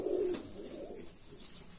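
Pigeons coo inside a home aviary, one soft low coo up front and then faint chirps and rustling against a quiet background.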